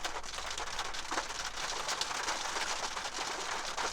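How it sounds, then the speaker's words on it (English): Heavy rain pours down steadily, a dense, loud hiss of drops hitting surfaces that stays constant throughout with no pauses. "Big rain now."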